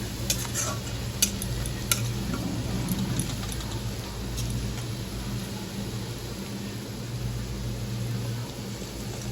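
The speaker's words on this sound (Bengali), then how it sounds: "দেখো পেঁয়াজটা ভেজে দিলাম লাগিয়ে দিয়ে" Onions fry in a pan for a fish curry, a soft continuous sizzle with a few sharp utensil taps near the start, fairly quiet and steady with no talk.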